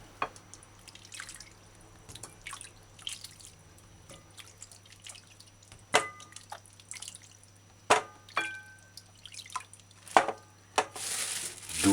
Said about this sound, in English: Give it a final rinse.